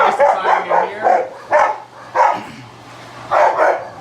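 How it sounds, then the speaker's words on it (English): Dogs bark in a steady series of about eight loud, sharp barks near a house under renovation, spaced in an uneven rhythm with a brief pause partway through. "If you listen real close, you can hear dogs barking."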